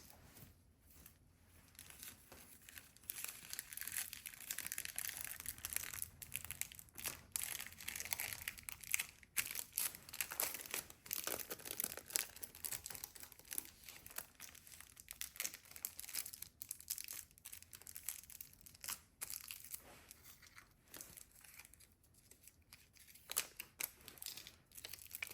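Paper wrapping being crumpled and folded while shop orders are packed, a constant close crinkling and rustling with sharp crackles and occasional snips. It is faint overall and continues without talk for about twenty-five seconds.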